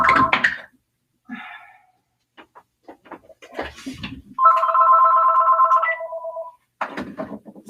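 A home landline telephone rings with a long, steady electronic trill from about 4.4 to 6.5 seconds, preceded by scattered clicks and handling noises, loud and close in an indoor room.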